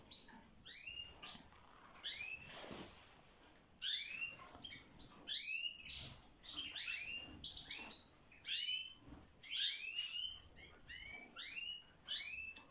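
Canaries chirp and tweet repeatedly in quick, bright bursts, close by, with short gaps between calls.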